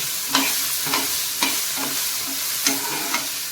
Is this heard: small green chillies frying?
yes